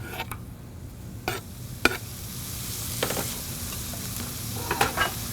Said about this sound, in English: I'm going to put in a little olive oil, just a bit, about a tablespoon, followed by our onion and jalapeno